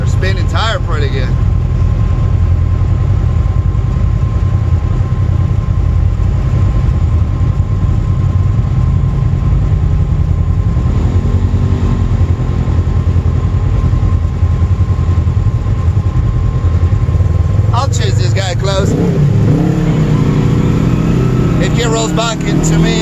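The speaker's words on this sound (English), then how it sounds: "They're spinning tire pretty good." An off-road vehicle on a trail in the Naches trail system spins its tires on slippery ground; a loud, continuous engine drone with revving tire spin dominates, heard up close from another vehicle, with brief talk near the end.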